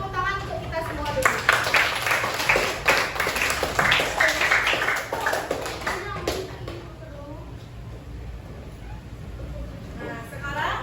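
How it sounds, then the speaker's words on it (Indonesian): Children clap their hands together in a classroom, a burst of overlapping claps with young voices chattering over it, tapering off as the room settles. "Tepuk tangan untuk kita semua dulu."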